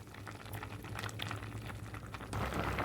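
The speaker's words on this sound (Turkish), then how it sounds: "5 dakika daha bu şekilde reçelimi kaynatıyorum" Orange jam with lemon juice bubbling in a pot on the stove, a steady close simmer of popping bubbles that grows a little more vigorous near the end, with no voices.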